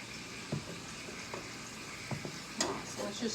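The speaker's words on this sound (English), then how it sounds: "So let's just stir this in, see where we're at." Oregano being stirred into homemade spaghetti sauce in a skillet, with a few soft scraping strokes over a steady low sizzle and no talking.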